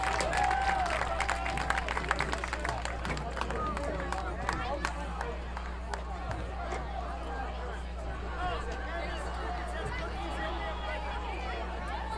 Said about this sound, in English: Let's have another round of applause for both Cornell and the Avella-9 bands.